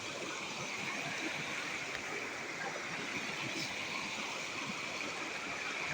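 Cold waterfall stream water flowing in Arunachal Pradesh, a steady broadband rush that stays even and close for the whole stretch, with no voices.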